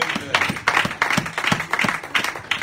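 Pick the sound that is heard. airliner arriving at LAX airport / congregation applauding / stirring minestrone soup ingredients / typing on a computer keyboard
congregation applauding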